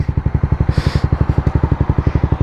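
A Honda CBR 250 motorcycle engine putters close by at low revs with an even, rapid pulsing beat while a novice rider learns the clutch, plus a brief hiss of air partway through.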